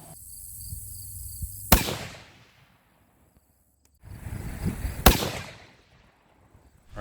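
Two rifle test shots with Nosler Partition bullets ring out at an outdoor range, each a sharp, loud crack trailing into a decaying echo, a few seconds apart with no talk.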